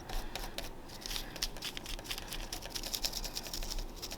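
Large scissors shave fibers off soft craft material for a fairy garden, making rapid, close, steady scratchy snipping and rubbing.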